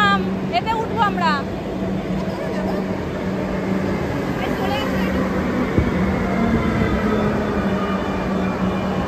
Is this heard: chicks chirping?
no